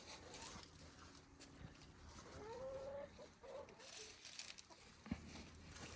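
Chickens and a rooster at a chicken sanctuary cluck faintly outdoors in the sun, with a few soft calls rising briefly over a quiet, steady background.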